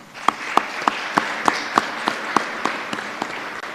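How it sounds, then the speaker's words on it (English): Applause from a live debate audience at the Montego Bay Convention Center, heard as a steady wash of hand claps with sharper claps standing out at regular intervals, moderately loud and without voices. "all of them deserve a big round of applause"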